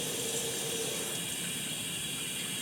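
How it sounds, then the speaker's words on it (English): Hand shower running on its own from a shower trim control, a steady even hiss of flowing water, continuous and fairly quiet with no talking. "the hand shower will run by itself"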